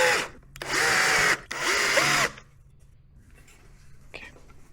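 A power drill driving particle board screws, two loud whirring bursts of about a second each separated by a brief pause, followed by quiet with faint handling noise.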